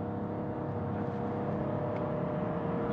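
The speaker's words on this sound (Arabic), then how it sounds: "تو الموتور الترميك هو اللي باش يخدم." Inside a Toyota Yaris Cross hybrid, the 1.5-litre three-cylinder petrol engine hums steadily with a low tonal drone and a faint whir, holding at a constant moderate level from start to finish.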